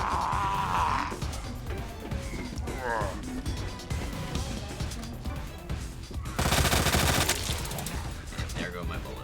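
Gunfire in the video game Resident Evil 2, rapid bursts of shots with one loud volley near the end, under a player's talk.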